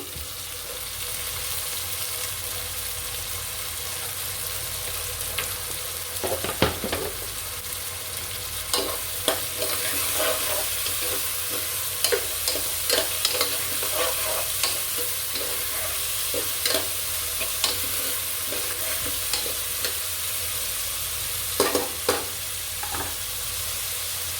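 Chopped carrots fry in a pan for a spicy meat pasta, a constant sizzle broken by repeated scraping stirs that come in short bursts, near and fairly loud, with no one speaking.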